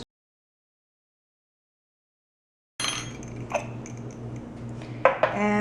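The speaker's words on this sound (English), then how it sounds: "I'm just going to whisk these together" A whisk clinks against a bowl while blending baking powder and salt for whole wheat muffins; silence first, then quick light metallic taps and scrapes, close by and fairly quiet.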